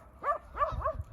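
Puppies come running in a group and give three short, high yelping barks in quick succession, close by and clear over a low rumble.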